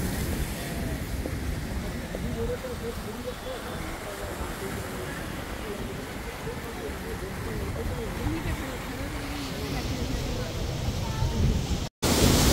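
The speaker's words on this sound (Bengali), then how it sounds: "পানির আওয়াজ দেখছেন মা?" Sea waves washing onto a beach in Mumbai, a steady broad roar of surf with wind rumbling on the microphone, continuous and fairly loud with people talking over it.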